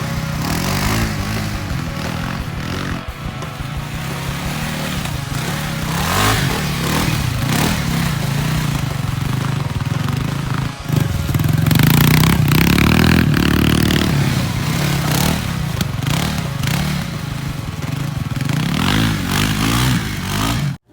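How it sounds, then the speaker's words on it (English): Steady, loud off-road engine drone of a Kawasaki KLX 300R trail motorcycle, heard close and continuous with rough throttle swells and some rattling, a brief louder rev near the middle. "Kawasaki boasts on their website that the KLX 300R is the ultimate off-road trail bike"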